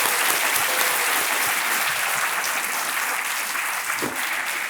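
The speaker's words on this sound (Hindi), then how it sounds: "तालियां बजते रहे" A studio audience at a TV quiz show breaks into steady, dense applause that stays loud and even for several seconds, with no talking over it.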